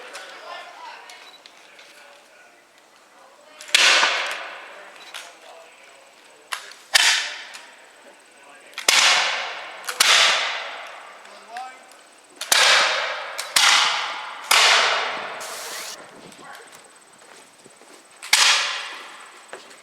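Black-powder musket volleys at a War of 1812 reenactment weekend at Backus-Page House ring out repeatedly, loud sharp cracks with rolling decays, some single and some in quick pairs, while commanders shout orders between shots.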